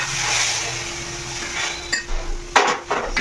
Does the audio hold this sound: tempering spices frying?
yes